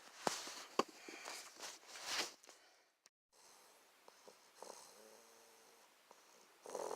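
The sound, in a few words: dog snoring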